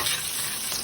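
Lots of garlic sizzles steadily in hot oil being stirred, a close, continuous crackle with no talk over it.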